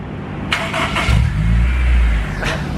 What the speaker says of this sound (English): This is the sound of a starter hanging up right after start.